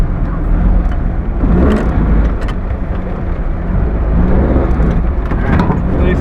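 Trophy trucks and buggies on the fast section of the Baja 1000 race course, roaring engines tearing past at high speed, loud and close with rising and fading passes and no talk.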